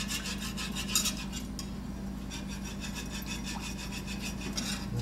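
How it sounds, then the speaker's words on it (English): Milk being whisked into a roux in a pan over raised heat: a steady, close, rhythmic scraping and swishing that runs continuously, with no talk. "We'll add some of that milk in there. Keep whisking."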